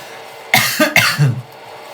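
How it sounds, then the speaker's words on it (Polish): Two or three harsh coughs burst out close up after a quiet pause, then fade into a short breathy rasp. "Kurczę, ten kaszel męczy, tak wieczorami."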